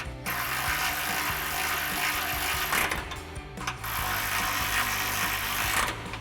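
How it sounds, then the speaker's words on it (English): A hand ratchet with a 13mm socket tightens the locking nuts of a Flowmaster Outlaw cat-back exhaust on a 2021-2024 Ford Bronco, giving a continuous close run of rapid pawl clicks with brief pauses between strokes. "We're gonna grab our ratchet and 13mm socket and tighten them down."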